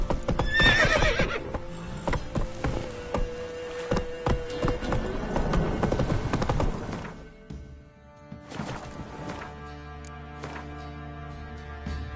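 Roach, Geralt's horse in The Witcher 3, gallops with steady clip-clopping hooves and lets out a loud whinny near the start, the hoofbeats fading into calmer game sound after the halfway point.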